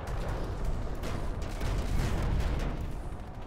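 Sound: anti-aircraft flak and gunfire in a video game

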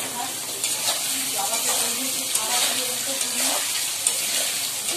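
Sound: potatoes frying in oil in a pan

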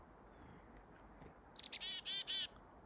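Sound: small birds chirping

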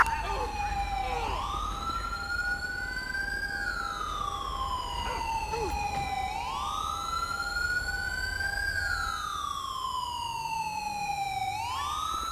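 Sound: ambulance siren responding code 3 in Grand Theft Auto V (video game)

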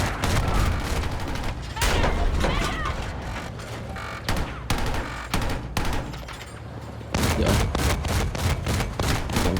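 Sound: gunfire in a video game

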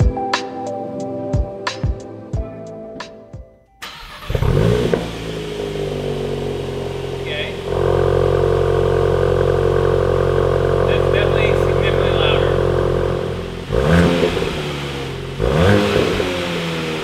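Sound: VW Golf MK8 GTI engine revving with Clubsport muffler exhaust

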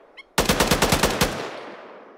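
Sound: machine gun fire in a military squad training video game

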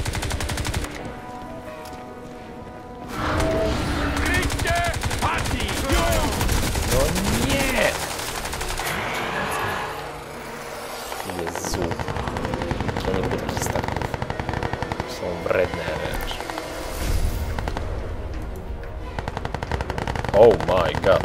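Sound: gunfire in the video game Crysis 2

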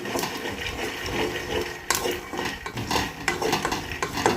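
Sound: peanuts being roasted and stirred in a pan

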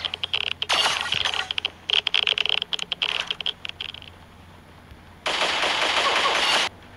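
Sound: gunfire in Pixel Gun 3D video game

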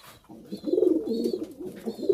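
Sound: pigeons cooing

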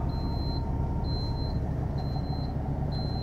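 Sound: RV warning beeping with slide-outs extended

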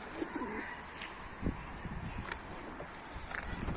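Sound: pigeons

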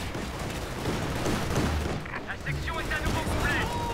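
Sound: rifle gunfire in a video game

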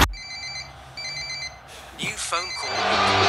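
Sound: phone call ringtone in EA Sports FC 25 video game

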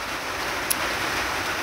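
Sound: rain falling

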